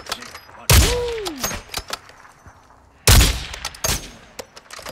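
Two loud, sharp sniper shots crack out in a Call of Duty DMZ match, each followed by a ringing tail and lighter impacts, with scattered quieter gunfire and sounds between them.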